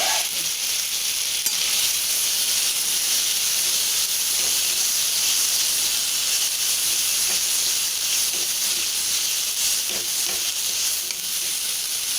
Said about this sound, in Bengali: এবার ভালোভাবে কষিয়ে নিতে হবে